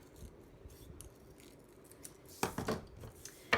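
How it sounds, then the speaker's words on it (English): Scissors cutting paper around a pineapple shape for a summer thank-you card, quiet at first, then a cluster of close crisp snips near the end. "I'm just going to cut around this part"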